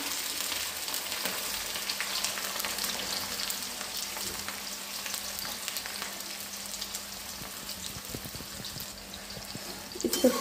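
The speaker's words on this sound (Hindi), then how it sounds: "कढ़ाई इधर चढ़ा दिए हैं, अब डाल रहे हैं इसमें प्याज डाल रहे हैं।" Onions fry in a kadhai of hot oil with bay leaf, a loud continuous sizzle close by that swells slightly near the end, with no talking.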